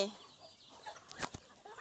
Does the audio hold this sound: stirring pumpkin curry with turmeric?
no